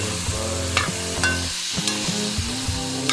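Cauliflower and peas fry in hot oil while a spoon stirs them, giving a steady sizzle broken by several sharp scraping clacks of utensil against the pan, close and clear with no talking.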